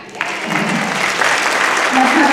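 An audience at an outdoor community band concert applauds in a steady, building round of clapping, fairly close and full, with a voice speaking faintly over it toward the end.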